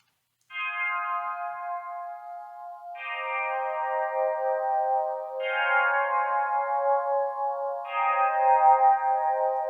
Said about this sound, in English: So we just put on some basic reverb and it sounds like this.